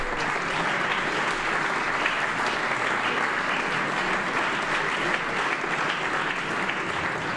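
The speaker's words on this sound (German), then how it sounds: "Applaus" Steady, dense applause from an audience in Hamburg after a team from Prague wins a football tournament for the third straight year, sustained and even throughout without a break.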